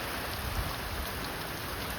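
Steady, heavy rain from an out-of-season summer storm pours down in a dense, continuous wash of noise with no voices, filling the whole scene evenly.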